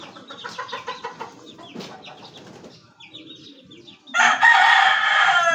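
Boston Roundhead gamefowl cluck in quick rhythmic bursts up close, then a rooster lets out a loud, full crow that carries to the end.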